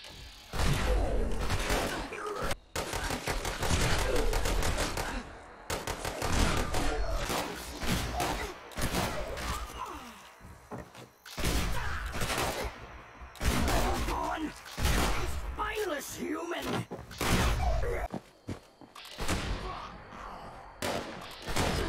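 A Gauss shotgun fires repeatedly in the video game Fallout 76, loud broad blasts and thuds in bursts separated by short gaps, with a voice talking among the shots.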